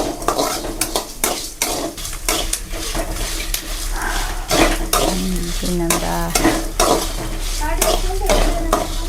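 Black pepper and coriander roast in coconut oil, with steady sizzling under repeated metal stirring and scraping against the pan, close and busy throughout, and a brief tonal sound midway.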